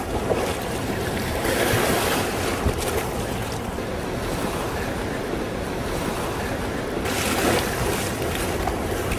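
Rapids on the Teles Pires river in the Amazon basin rush over rocks in a loud, continuous broadband roar, steady throughout with some gusty swells.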